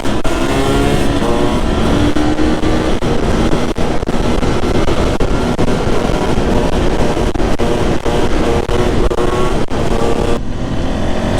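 A 2020 300 TEI two-stroke fuel-injected motorcycle engine runs steadily and loudly up close, a continuous buzzing drone with slight shifts in pitch, then a brief dip near the end.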